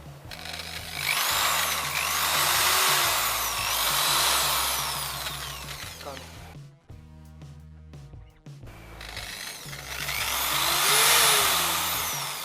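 A Bosch Professional GBM 350-watt drilling machine runs close up in loud whirring bursts, spinning up and winding down with a short gap in the middle, then revving again.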